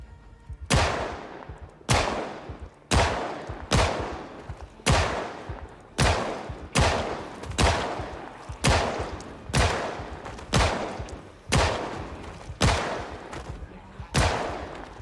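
Pistol shots in the video game Project Zomboid fire one at a time at a steady pace, roughly one shot every second, each a sharp loud crack with a short decaying tail, about a dozen in all, and no one talks.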